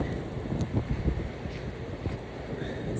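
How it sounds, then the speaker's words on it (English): Outdoor wind buffets the microphone in low, uneven gusts, a steady rumbling rush with brief louder thumps over a few seconds. "All right, the wind is getting serious."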